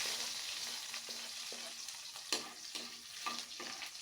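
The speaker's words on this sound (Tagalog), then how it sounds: "pag naggigisa tayo guys, palalabasin lang natin yung kanyang aroma. Ito naman po yung kanyang bawang" Garlic sautéing in a pan as a base for chicken feet and blood dish, a soft continuous sizzle with periodic scraping taps of a spatula stirring, fairly quiet and close.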